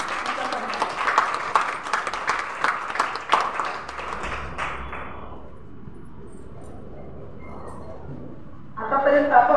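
An audience at a Marathi poetry program claps briefly, a burst of applause that quickly fades to quiet room tone before a voice begins speaking at the end.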